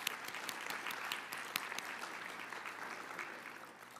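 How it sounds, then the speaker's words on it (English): Audience applause at an entomology conference event, a steady wash of many hands clapping close by, sustained for the whole stretch and tapering slightly toward the end, with no talking. "let's give President Em a round of applause"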